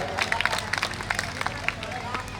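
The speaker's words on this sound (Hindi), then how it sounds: "जोरदार तालियां, शाबाश।" An audience claps during a Ramlila performance by the Shri Vijay Ramlila Committee in Ghaziabad, at the Parshuram, Lakshman and Ram dialogue scene: uneven bursts of hand claps over steady crowd chatter.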